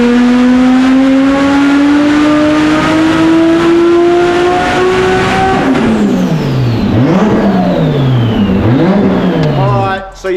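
A Nissan Skyline R34 with an RB30 engine screams through a dyno pull, the loud engine note climbing steadily, then dropping and wavering through several blips before cutting off abruptly.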